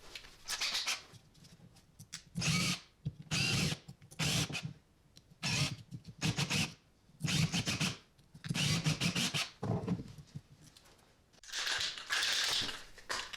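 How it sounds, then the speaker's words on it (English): A drill whirs and grinds in repeated short bursts with brief pauses between, re-drilling holes through taped wooden yard dice at close range. "Once the tape is applied, I can re-drill the holes"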